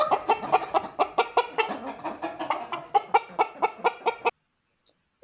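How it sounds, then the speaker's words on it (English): A hen clucks in a rapid, rhythmic run of close, sharp calls, a dozen or more in quick succession, then stops abruptly into silence. "It's a hen."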